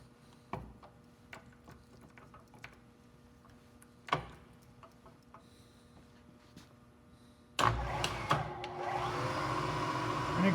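Milling machine spindle running at about 1800 RPM in a workshop, with a few sharp clicks and taps before the motor starts up into a steady, fairly loud whirring drone near the end.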